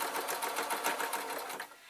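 Sewing machine stitching a waistcoat, a fast steady rattle of the needle running continuously and close, easing slightly at the very end.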